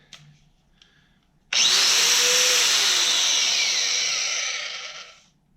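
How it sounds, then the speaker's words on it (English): A Metabo WP 9-115 angle grinder starts abruptly after faint handling clicks, then runs with a loud, steady high-pitched whine for about three and a half seconds before spinning down. The sound is close and unaccompanied by speech. "Excellent quality grinder."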